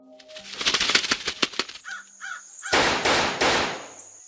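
A crow gives several loud, harsh caws in quick succession near the end, after a stretch of scattered clattering sounds, set within eerie horror-story narration.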